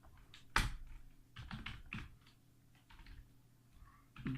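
Keys clack on a computer keyboard as Arduino code for blinking an LED is typed, with sparse, irregular bursts of clicks and one sharper tap near the start, heard close and fairly quiet without speech.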